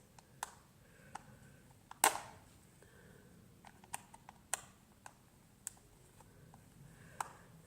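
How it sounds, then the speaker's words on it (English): Small screws are being backed out of a 2005 Furby with a handheld screwdriver, giving sparse faint ticks and clicks at irregular intervals with one sharper snap, and no talking. "go back to your screwdriver. I'm gonna unscrew these little things"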